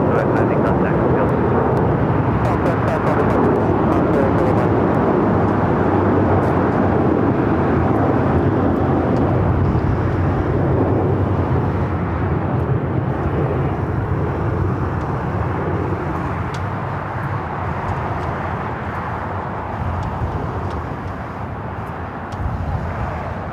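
A plane landing at Los Angeles LAX airport gives a loud, continuous roar of jet engines that swells and then slowly fades, with radio chatter running underneath.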